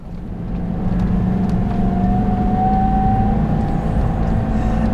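An off-road overland rig with a powerful stock engine drives through Arizona desert, its steady low rumble droning continuously and loudly, with a faint rising whine above it and no voices.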